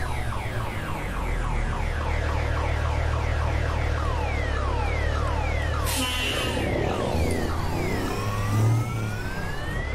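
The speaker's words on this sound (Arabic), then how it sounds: "هلا هون صوت الريفيرز" Rapid repeating electronic truck reversing beeps over a steady low engine rumble in a truck-driving video game, loud and continuous, with a brief mechanical whoosh partway through.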